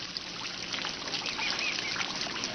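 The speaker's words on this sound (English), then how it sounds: "I hear the water. I hear the birds." Trickling water flows steadily outdoors while birds chirp and call intermittently over it, fairly close and without voices.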